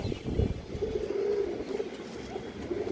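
A ring-eyed pigeon from a mixed loft of fancy breeds coos in low, rolling phrases at moderate distance, repeating steadily over faint background rustle and a brief passing car-like rumble, with no voices.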